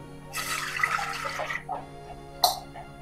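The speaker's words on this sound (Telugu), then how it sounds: "ఈ గ్లాస్తో గ్లాస్ వాటర్ వేస్తున్నాం" Water poured from a glass into a pot for making rice flour dough, a splashing gush lasting about a second, then a short second splash, close by.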